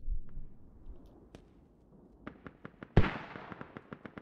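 Mortar explosions in the video game Squad, with a sharp blast followed by a run of rapid distant cracks and thuds at a moderate level.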